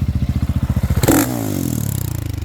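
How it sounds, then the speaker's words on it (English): A 2023 GasGas 700 ES dirt bike engine on knobby tires thumps in a fast, steady idle pulse, then blips into one loud, sharp rev before settling back into a quick, rhythmic throb. The engine is close and no one talks. "This is a Gasgas 700 ES model."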